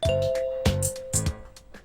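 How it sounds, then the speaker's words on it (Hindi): An electronic ding-dong doorbell chimes at close range in a home, repeating several times in a clear two-tone pattern with brief gaps between presses and almost no talk. "किसने बजाई घंटी?"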